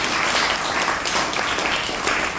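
Dense, continuous audience applause for a team at a guidance talk for parents and students, a loud uniform wash of many hands clapping with no talk over it.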